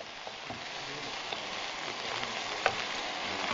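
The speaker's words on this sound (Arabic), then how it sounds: "بلشت بتقلية الدجاج، حطيت دجاج، حطيت لهم طحين، فلفل اسود وايضا رشة ملح" Flour and black pepper coated chicken fries in a pan with a soft, even sizzle and occasional faint pops, steady and fairly quiet throughout.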